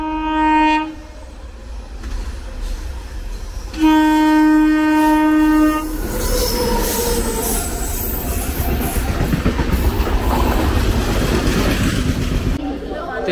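The Krishna Express passenger train creeps along slowly, giving two long horn blasts before a steady rolling rumble and rattle of the carriages, with faint voices nearby.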